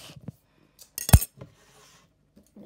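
Metal spoon clinking against a glass while stirring chocolate milk, a few light taps followed by one louder clink near the middle, then quiet.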